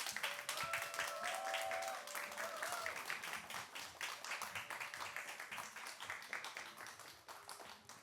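Audience applause welcoming a Korean physics professor, Choi Eun-mi of Korea University, onto a stage at a lecture event: sustained dense clapping for about eight seconds, with voices and cheers mixed in before it slowly thins.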